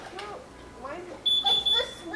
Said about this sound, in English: you hear the beep from the traditional system